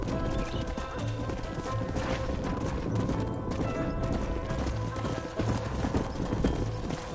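Horse hooves clip-clop steadily on the ground in the Red Dead Redemption video game, close and rhythmic, with background game sounds layered beneath.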